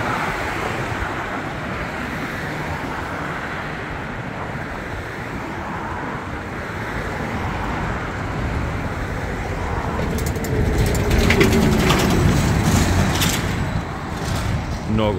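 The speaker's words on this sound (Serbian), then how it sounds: "Mnogo duva vetra." Strong wind blowing outdoors on a walk, a broad continuous roar buffeting close up and swelling louder toward the end, with faint background noise.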